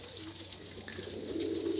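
A pigeon coos softly at close range, low murmuring calls over a quiet outdoor background that grows slightly louder toward the end.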